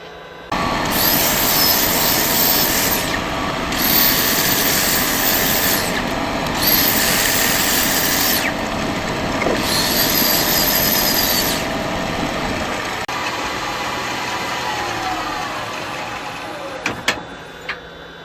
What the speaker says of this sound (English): So let's do some sanding.